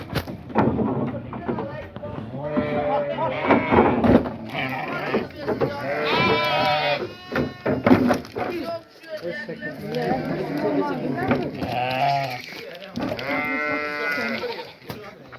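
Sheep bleating at a livestock farm, repeated loud bleats from several animals mixed with voices of people talking nearby.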